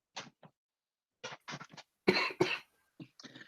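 A person coughs in a quick series of short, dry bursts, a few louder harsh ones in the middle, close and clear against silence between.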